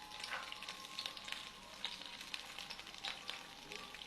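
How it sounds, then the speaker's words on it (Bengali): Greens with shrimp fry gently over low heat, a faint steady sizzle with occasional soft crackles and light stirring, heard alone. "আস্তে আস্তে আঁচ দিয়ে ভাজবো"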